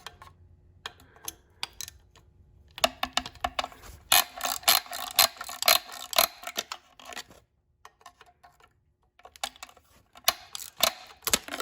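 A ratchet driving a 6mm hex bit to tighten a bolt on an Audi 2.0T engine being prepped for install, rapid close clicking in several bursts separated by brief pauses.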